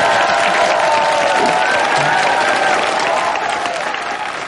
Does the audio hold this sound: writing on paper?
no